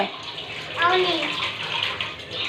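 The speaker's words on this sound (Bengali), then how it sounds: "আচ্ছা ঠিক আছে, হাত ধুয়ে নাও।" Tap water runs steadily into a basin as a child washes hands indoors, a close constant gush with a voice briefly heard over it.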